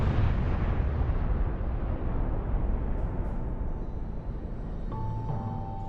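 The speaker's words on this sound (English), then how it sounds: "He falls, detonating his armor of explosives." A massive explosion from a detonated armor of explosives, a deep roaring blast that rumbles on loudly and slowly decays over several seconds.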